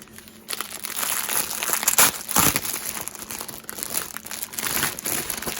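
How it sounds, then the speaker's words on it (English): Plastic wrapping around a reading accessory with fleecy lining crinkles and crackles up close as the package is opened, in irregular loud bursts with no talking. "I've been waiting to unbox"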